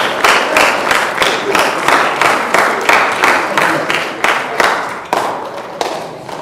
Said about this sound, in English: we need to give Marion Barry a round of applause for his efforts in that regard